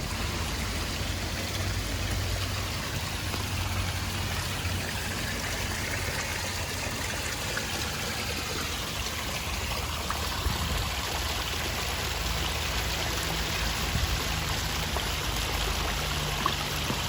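A small waterfall trickles beside a duck pond at a flower festival in Greenwood, South Carolina, giving a steady, even rush of water throughout with no voices.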